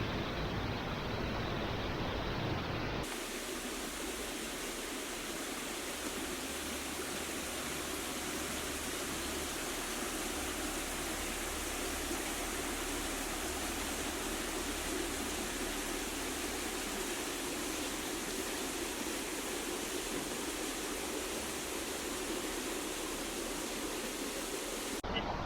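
Waterfall pouring over carved rock pools near a trailhead parking area in Pennsylvania, a steady loud broadband rush that continues unbroken close by after a brief shift at the start.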